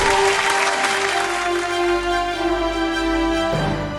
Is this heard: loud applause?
yes